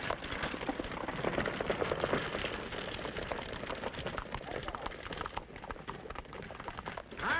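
Horse hooves clip-clopping at a steady trot in an old 1939 Western, muffled and continuous beneath a dense, noisy band of background music and crackle.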